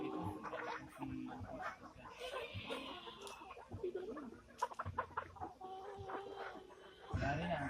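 Roosters and chickens cluck and crow on a free-range farm, close and lively in irregular bursts, while people talk in the background.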